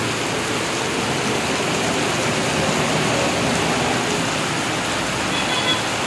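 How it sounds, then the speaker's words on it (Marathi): Heavy rain pouring in the Narayangaon area, a dense, loud and steady hiss with no breaks, alone without any voices. "नारायणगाव परिसरात पावसाला जोरदार सुरुवात झालेली आहे."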